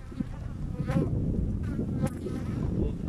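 Honey bees at a hive during a nectar flow make a close, continuous buzzing drone, with individual bees flying past the microphone.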